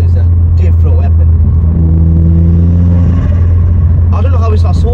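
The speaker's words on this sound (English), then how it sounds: "we've not talked about the exhaust enough. It sounds so nice. And then the turbo whistles" Stage 2 tuned Vauxhall Astra VXR, around 320 bhp, exhaust droning loudly and steadily, with a rising tonal whine like a turbo whistle briefly audible in the middle of the run.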